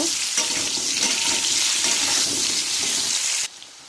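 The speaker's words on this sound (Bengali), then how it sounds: "আমি আলুগুলোকে একটু ভালো করে লাল লাল করে ভেজে নেব" Steady loud frying sizzle with occasional scraping and stirring clatter, cutting off abruptly near the end.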